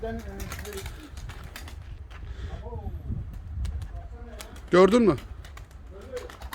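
Soft bird calls and cooing come through in short phrases, with people talking nearby and a brief louder call near the end.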